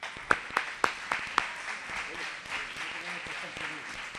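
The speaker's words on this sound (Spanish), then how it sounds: "Un aplauso al amigo Morillo." A few sharp, scattered claps of applause ring out for a cook at a Spanish rice and flamenco presentation, followed by a room of murmuring voices and talk.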